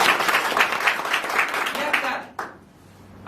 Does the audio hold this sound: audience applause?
yes